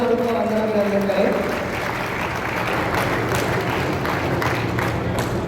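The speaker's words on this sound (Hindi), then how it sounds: "आप सभी दर्शकों से अनुरोध है कि जोरदार तालियों के साथ अपना वंदना अभिनंदन करें।" An audience applauds at a weightlifting and powerlifting event: dense, sustained clapping from a large crowd that fills the whole stretch at an even, loud level.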